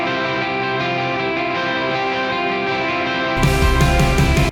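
Electric guitar with mixing plugins applied plays sustained, full-bodied chords up close. Midway a full band mix with drums comes in brighter and louder, and no one talks.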